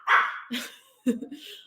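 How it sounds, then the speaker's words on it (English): A pet dog barks and yips several times in quick, close bursts indoors, sharp and fairly loud, with short gaps between the barks. "sorry about my dog."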